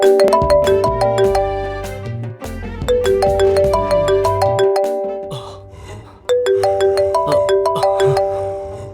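An incoming phone call rings with a bright, melodic electronic ringtone, loud and close, its chiming tune repeating in phrases with no voices over it.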